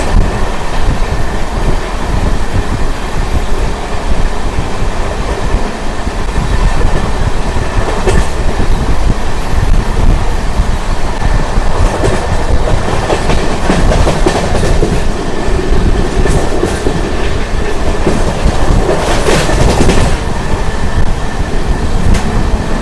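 Satavahana SF Express train running at speed between Vijayawada and Secunderabad, heard from inside a general coach: a continuous loud rumble with rattling and clickety-clack of wheels over rail joints throughout.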